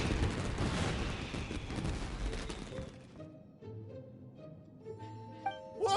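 Fireworks in a video game burst in a dense, crackling barrage for about three seconds, then fade out and give way to soft music with a few faint pops.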